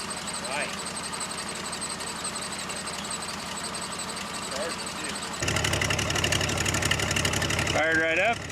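An old, unusual vehicle's engine cranks and catches after ignition coil and distributor work, then settles into a steady idle. A continuous mid-level running drone grows louder partway through, with a voice speaking over it.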